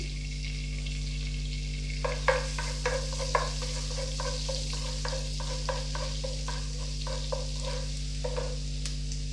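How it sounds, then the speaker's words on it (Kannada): Ginger sizzling in hot oil as tempering for an oats soup, a steady frying hiss with repeated spoon stirs and scrapes against the pan, close and alone without voices. "ಈಗ ಇದಕ್ಕೆ ಒಗ್ಗರಣೆಗೆ ಶುಂಠಿ ಹಾಕೊಳ್ತಾ ಇದ್ದೀನಿ"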